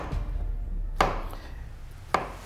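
A knife cuts through cooked green banana on a board, giving two sharp, close chops spaced about a second apart over a quiet kitchen background.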